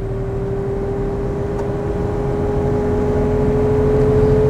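A car with retrofitted power steering cruises at speed, producing a steady engine drone with a constant whirring tone and road rumble that builds slightly toward the end. No one speaks over it.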